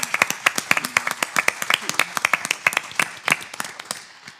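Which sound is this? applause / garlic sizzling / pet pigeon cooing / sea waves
applause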